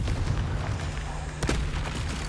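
A Confringo spell blast fires in the Hogwarts Legacy video game, one sharp booming burst over a dense background of game noise, with no talking.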